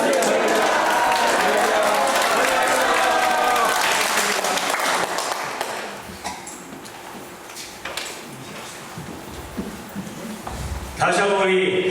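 A church congregation at a Korean presbytery opening worship service claps together on cue, a dense burst of applause that fades to scattered claps before a voice speaks over the room.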